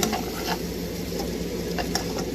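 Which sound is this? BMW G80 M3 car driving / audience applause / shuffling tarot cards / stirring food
stirring food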